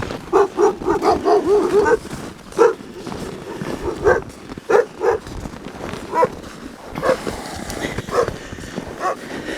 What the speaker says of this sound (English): A couple of dogs here. I hear you, babies.